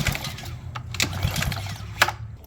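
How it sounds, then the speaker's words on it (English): A gas pressure washer's pump is cycled after adding pump saver: a low rhythmic mechanical chugging from a small engine close by, with a few sharp clicks and hisses over about two seconds. "just cycle the pump a few times"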